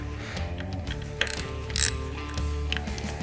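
A ratchet fitted with a T27 Torx bit cracks loose the screws on a Harley-Davidson derby cover, giving short bursts of close mechanical clicking over a steady low background hum.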